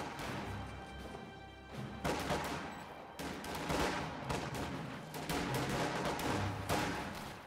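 Rifle volley fire in a tactical war video game with riflemen engaging grenadiers, dense overlapping gunshot bursts and crackling impacts rolling in waves over several seconds, loud and continuous.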